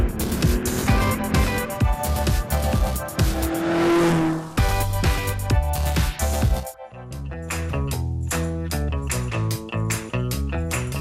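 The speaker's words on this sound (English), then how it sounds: "comes alive with the sound of mighty rumbling engines and screeching tyres for the Chateau Impney hill climb" Racing cars at the Chateau Impney hill climb rumble loudly, their engines revving and shifting through gears with sharp rises in pitch and one car roaring hard past, heard close and unbroken, with no talking.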